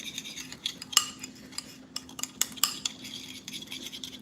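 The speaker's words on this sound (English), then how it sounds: "we're just mixing this up and creating a little sauce" A spoon stirs and mixes a sauce for pork ramen in a bowl, sounding as soft scraping with sharp clinks against the sides, irregular and close, over a faint steady hum.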